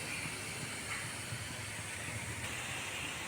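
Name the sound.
steam escaping while idada steam in a large pot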